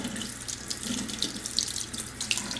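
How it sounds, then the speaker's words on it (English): Cold water runs steadily from a tap into a sink, rinsing the parts of a Shark robot vacuum such as filters, brush roll and dustbin, a continuous close splashing stream with small droplet clicks and no talk. "But we're just going to use cold water. So here's our cold water."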